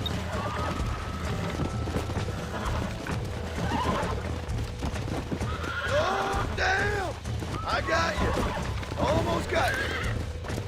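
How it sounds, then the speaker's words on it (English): Horse in the Red Dead Redemption video game whinnying and neighing several times with clip-clopping hooves, set against steady game ambience and voices talking throughout. "Peguei o cavalo."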